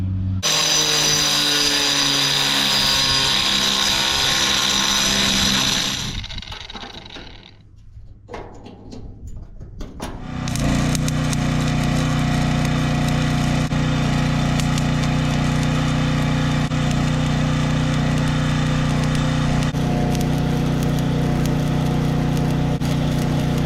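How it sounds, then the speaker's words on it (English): A power tool trims steel angle iron on the original trailer frame of a cattle feeder wagon, a loud sustained cutting whine that drops away briefly, then roars back up and runs steadily, with no voices. "I need to trim a little bit of the angle iron on the original trailer frame here"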